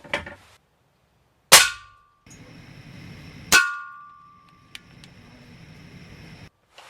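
Two sharp air rifle shots from a Daisy 880 or Ruger Air Hawk Elite II ring out about two seconds apart, each a loud crack with a quick ringing decay, followed by a faint pellet tick.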